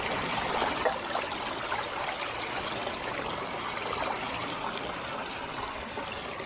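Fresh mountain spring water trickles steadily at a woodland campsite, a continuous close wash of running water with no break or change in level.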